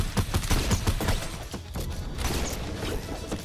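Rapid bursts of P90 automatic gunfire in Fortnite crackle in quick clusters, fairly faint and mixed with mechanical clicks, with no one speaking.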